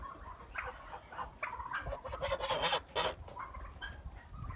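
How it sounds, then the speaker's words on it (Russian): Geese honk loudly and repeatedly at a turkey in a farmyard, their harsh calls coming in overlapping bursts close by. "Так гуси уже на него злятся."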